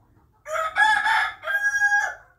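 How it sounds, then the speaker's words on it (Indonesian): A rooster crows twice in a row, close and loud, each call a long harsh cock-a-doodle-doo that rises then trails off, with nothing else audible. "ketika mendengar suara ayam berkokok lagi"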